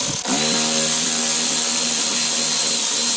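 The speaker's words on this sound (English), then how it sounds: "You just have to remove the 2 Torx screw." A power driver removing Torx screws from the third brake light of a Corvette C5/C6 whines loudly and steadily at close range, starting after a brief click and holding a constant pitch.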